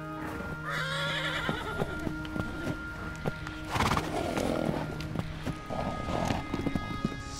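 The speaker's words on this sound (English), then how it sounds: "Is that the horses that they ride?" Horses at a riding camp whinny and neigh several times while hooves clip-clop on hard ground at moderate distance, with scattered knocks and no speech over the outdoor setting.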